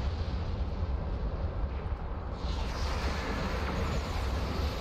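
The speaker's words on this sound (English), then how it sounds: "Look at all these explosions, my gosh." Booming explosions in Star Trek Online roll together in a dense, continuous rumble with a brighter blast partway through, loud and without any talking.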